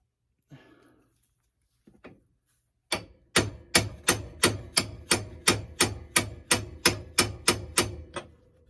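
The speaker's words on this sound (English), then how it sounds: "Oh, we need a bigger hammer." A hammer pounds on the front suspension of a 1970 Dodge Charger: a couple of faint knocks, then about fourteen loud metallic blows in a fast, even rhythm, close and sharp.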